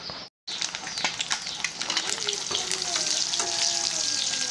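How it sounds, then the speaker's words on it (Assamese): Eggs fry in hot oil in a kadhai, a loud, continuous crackling sizzle with sharp pops that thickens after a brief silent gap near the start. "এতিয়া কণীকেইটা ফ্ৰাই কৰি লওঁ।"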